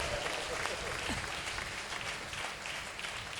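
Swaminarayan devotees and sadhus at the Vadtal Chaitri Samaiyo festival clap with raised hands, a steady dense wash of crowd applause filling the hall with no break.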